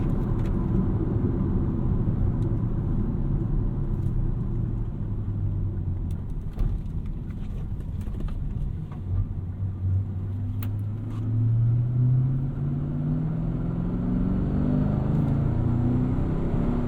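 A deep, steady 2012 Chevrolet Camaro 2SS V8 engine rumble with a low growl that rises in pitch as it revs up near the end, heard alone with no talking.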